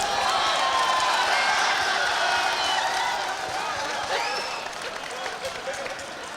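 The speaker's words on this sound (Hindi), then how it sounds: "तालियां कमजोर है, एक बार ताली बजाएं" A mushaira audience in Nuh, Mewat claps and cheers in a broad, steady wash of applause that starts loud and slowly thins out toward the end. No one speaks over it.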